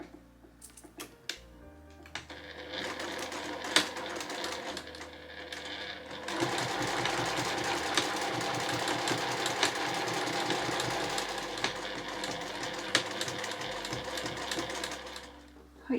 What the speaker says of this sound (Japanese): それでは重なりのところはしっかりと返し縫いをして縫っていきましょう。